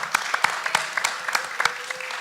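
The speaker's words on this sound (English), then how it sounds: "Give Jude a nice round of applause" A small audience gives a sparse round of applause during a recovery-themed show, with individual claps distinct and irregular, fairly close and moderately loud.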